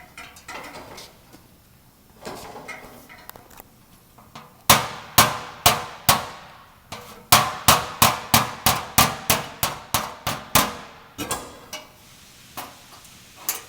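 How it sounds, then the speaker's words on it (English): A hammer tapping car body sheet metal while working a dent, ringing metallic clangs in irregular bursts: several spaced strikes, then a faster run of about a dozen close, loud taps, each with a short ring. "I'm kind of hammering it in towards the low area, so it'll kind of move the metal towards that area"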